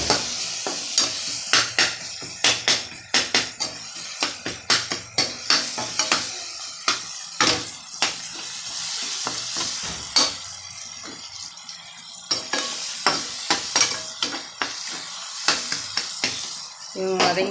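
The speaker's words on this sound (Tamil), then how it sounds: "கொஞ்சமாக மஞ்சள் பொடி போட்டுக்கலாம், வதங்கிறதுக்கு தேவையானது. இவங்களை நல்லா வதக்கிக்குவோம்." Vegetables with turmeric powder being sautéed in a pan, with a steady soft sizzle under many sharp spatula scrapes and clinks in an irregular rhythm, close by and with no talking.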